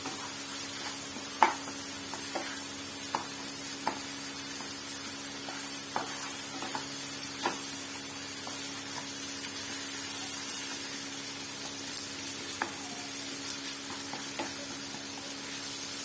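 Paneer masala frying in a pan, with a steady soft sizzle broken by scattered sharp crackles and pops as the spices are stirred and roasted, close up and with no voices.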